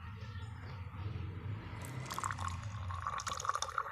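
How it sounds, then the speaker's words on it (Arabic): Warm water poured onto instant yeast in a bowl for kahk dough, a soft trickling, splashing fill that grows brighter toward the end, close and fairly quiet, with no speech. "ونحط بقى ميه دافيه،"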